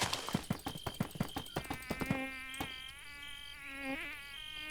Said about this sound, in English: Is that supposed to be a bee?